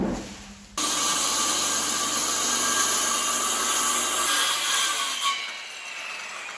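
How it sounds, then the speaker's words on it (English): A table saw rips through a 3/4 inch plywood sheet, starting abruptly with a loud, steady whine and rumble that eases slightly toward the end, no voices. "breaking down 3/4 inch sheets of plywood"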